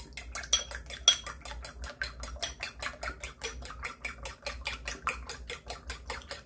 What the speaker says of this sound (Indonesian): kocok lepas